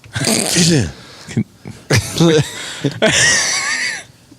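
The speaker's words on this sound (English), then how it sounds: "Can you sneeze?" A few bursts of human vocal sound, like sneezes or coughs, separated by short pauses, loud and close.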